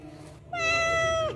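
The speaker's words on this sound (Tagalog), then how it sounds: "Ang daming pusa dito." A single cat lets out one clear, drawn-out meow that falls away at the end, close by and over a low steady background rumble.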